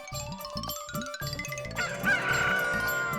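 A rooster shut inside a cupboard gives a run of short, nasal, honking calls in a steady rhythm, then a longer sustained cry with a faint jingle, muffled and fairly close.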